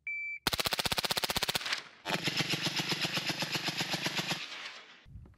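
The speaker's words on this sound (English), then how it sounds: "We got 20 rounds of 300 blackout. We're just gonna go full auto on target and see how the recoil management is." A rifle fires 300 Blackout rounds on full auto at a target, two rapid bursts of evenly spaced sharp cracks close by, a short one then a longer run, with no talking.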